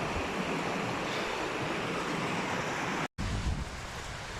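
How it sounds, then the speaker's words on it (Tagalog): A waterfall near Baguio gives a broad, steady roar of rushing water mixed with wind buffeting the microphone, with a momentary dropout before the rush resumes slightly softer. "So ayun yung waterfalls."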